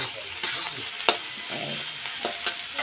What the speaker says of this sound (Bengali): তো এটাও আগে ভেজে ভেজে নিই একটু লাল লাল করে